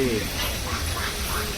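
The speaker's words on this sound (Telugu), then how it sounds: "బాతులేంటి ఇవన్నీ?" Ducks quack in a brief burst, close by, with voices talking over them.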